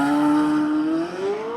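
A naturally aspirated V8 in a Corvette Z06 launches hard from a standstill, its loud, close engine note holding a steady tone before climbing in pitch as it accelerates, with no voices.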